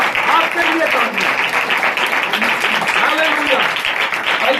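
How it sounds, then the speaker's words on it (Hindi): A church congregation clapping together in worship, steady and fairly loud, with voices and cheering mixed in throughout. "मैं चाहता हूं आप लोग अपने लिए जरा तालियां बजाएं।"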